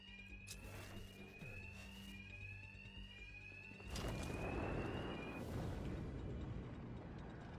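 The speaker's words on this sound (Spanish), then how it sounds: "La alarma." An alarm blares in Batman: Arkham Knight, a steady high electronic tone with a fast pulsing rhythm, loud and continuous, joined about halfway through by a heavy rumbling roar underneath.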